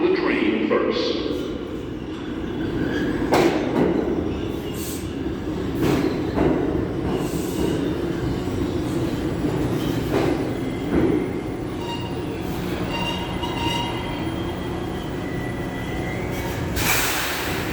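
An NYC Subway R142 train moves at Crown Heights-Utica Avenue station with rumbling wheels and brief squeals, while a recorded platform announcement plays over it.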